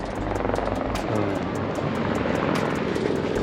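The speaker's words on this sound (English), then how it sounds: "There's a fucking helicopter for tourism." A tourist helicopter passes overhead at a 3,500-meter high point on a mountain road in China, its rotor beating in a steady, loud, continuous thrum with no talking.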